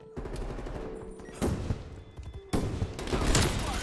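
Automatic gunfire in an online shooter match on a hardpoint mode, with bursts of rapid shots cutting in sharply at intervals over a continuous background of game sound.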